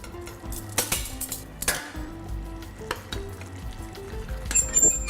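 Fish fillets set gently one beside another into a pot of simmering sauce: a loud, close sizzle and bubbling with a few sharp clinks of utensil on metal and soft splashes, and no voices.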